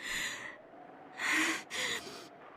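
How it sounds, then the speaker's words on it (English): A feverish woman breathes roughly and unevenly in a few raspy, gasping breaths, close and fairly loud, with no talk over them. "She spoke bravely, but she couldn't hide her rough breathing."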